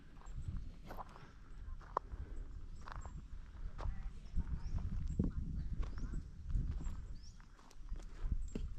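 A horse moves about at a large animal sanctuary, its hooves clip-clopping in irregular, fairly close steps over a steady outdoor rumble.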